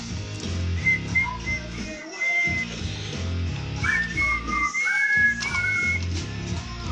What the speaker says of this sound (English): There's also a lot of whistling here.